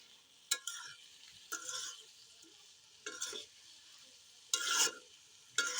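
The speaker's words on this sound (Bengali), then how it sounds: "এখন ভালো মতো নেড়ে চেড়ে ঢাকনা দিয়ে ঢেকে রেখে দেবো কিছুক্ষণের জন্য" Elephant apple pickle with sugar is stirred in a pan, a few separate bursts of scraping and bubbling sizzle with quiet pauses between them, near and fairly soft.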